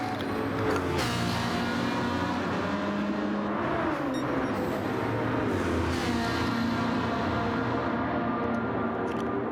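Racing engines of a Ferrari and a Corvette in Gran Turismo 7 on the start-finish straight at Barcelona, a steady loud droning roar with shifting pitch as the cars push flat out, no talking.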